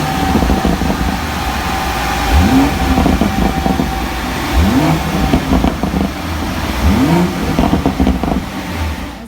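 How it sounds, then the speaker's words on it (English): Close-up BMW M140i engine revs three times in repeated swells, with crackling pops from the exhaust as each rev drops back toward idle. "my exhaust does crackle and pop"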